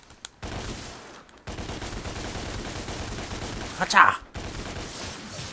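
Body gun fire in the action game Devil May Cry comes as bursts of rapid gunfire with a sharp loud spike near the end. A brief voice exclamation is heard.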